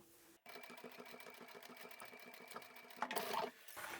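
A sewing machine runs steadily while stitching a zippered bag, its rapid rhythmic needle clatter continuing close and fairly quiet, with a brief louder burst of motor whir near the end.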